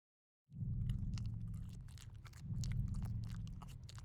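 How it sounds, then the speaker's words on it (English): A clown monster in a video game munches and chews wetly, with steady crunching bites that start abruptly and continue without pause, fairly close and alone without talk. "I hear munching noises. He's in here somewhere."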